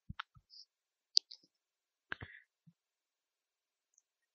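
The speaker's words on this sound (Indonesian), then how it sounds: "Ya, saya mengetik nama Ardila" Sparse, quiet keystrokes on a computer keyboard, a few separate clicks and short bursts with pauses between, heard alone in a silent room.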